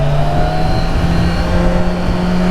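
A 2020 Kawasaki Ninja 1000SX pulls away under steady acceleration, its engine drone rising gradually, loud and close against continuous wind and road rush.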